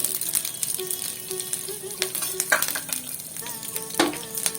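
Chopped green chillies fry in two spoons of oil on a stove, a bright continuous sizzle broken by repeated scraping stirs and clinks of a spatula against the pan.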